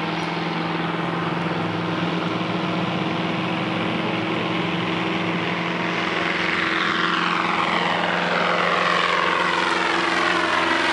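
Floatplane taking off on the Chena River in Fairbanks, Alaska, its propeller engine droning loud and steady, with a strong, constant hum that swells slightly as it passes close by.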